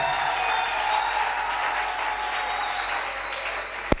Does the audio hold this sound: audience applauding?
yes